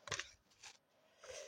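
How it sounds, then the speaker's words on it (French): A few quiet snips of scissors cutting scrapbooking paper, two or three short crisp cuts close by with brief pauses between. "je vais là, cette fois-ci, prendre des ciseaux"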